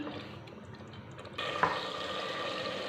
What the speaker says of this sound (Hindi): अभी 10 मिनट इनकी अच्छे से भुनाई हो जाएगी